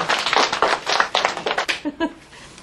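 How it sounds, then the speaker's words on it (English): A small group in a classroom-style setting gives a brief burst of clapping with a few cheers, dense at first and then thinning out into scattered claps. "Let's stand and give them a big round of applause."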